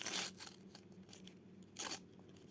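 A small Squishmallow packet being torn open by hand, two short crinkly bursts of plastic tearing separated by a pause, close and fairly quiet with faint rustling in between.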